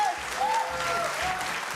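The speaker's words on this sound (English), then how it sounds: "Can I get a round of applause, please?" An audience on a live show applauds competitors in a brief, steady burst, with a faint tonal sweep sounding underneath.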